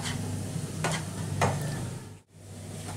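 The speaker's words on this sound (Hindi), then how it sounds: "अब हम इसमें अपना एवोपरेटेड दूध डालेंगे और इसे जल्दी से मिक्स कर लेंगे" Evaporated milk being stirred quickly into a besan barfi mixture in a pan, with steady scraping and stirring strokes over a soft sizzle, close and continuous, with a brief pause near the end.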